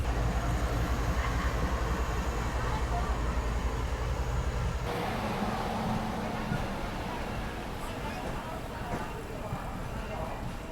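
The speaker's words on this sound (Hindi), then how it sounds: "पर ट्रेन पहुंच रही है बिल्कुल एकदम ऑन टाइम पहुंच रही है" A train pulls into a station on a scenic line near the Bhutan border. A loud, low rumble dominates the first half, then eases into a lighter, rattling drone, with people talking nearby.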